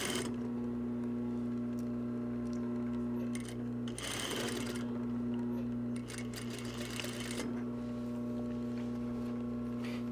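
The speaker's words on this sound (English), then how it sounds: "To make the sewing go a little quicker, you can line up the next seam, push it under the presser foot, back tack," Sewing machine running steadily while stitching a seam on a reversible jacket, a continuous motor hum with short louder bursts of faster stitching, close and alone with no talk.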